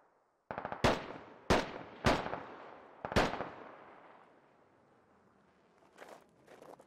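Four sharp, loud gunshots crack in irregular succession in the Squad military shooter, each trailing into a fading echo, followed by a couple of faint distant reports.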